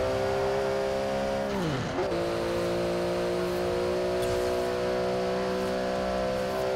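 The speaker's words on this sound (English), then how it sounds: "I'm grinding my clutch." A GT3 race car in Forza Horizon 4 driven with a Fanatec CSL Elite wheel whines at high revs, dipping sharply during a rough, mistimed gear shift, then holding a steady engine tone.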